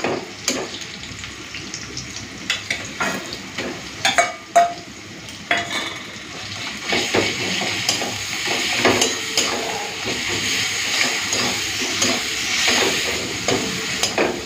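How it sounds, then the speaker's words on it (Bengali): Onions and ginger-garlic paste frying dry in a pan without water, a steady sizzle broken by repeated scraping stirs and occasional clinks of a utensil against the pot. "পেঁয়াজের সাথে আদা রসুনটাকে ভালো করে ভেজে নিয়েছি, একদম জল দিইনি, জল ছাড়া ভেজে নিচ্ছিলাম।"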